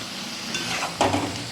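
Prawns tossed with spices in a hot pan give a close frying sizzle, with a spatula scraping and stirring that swells into a louder burst near the end.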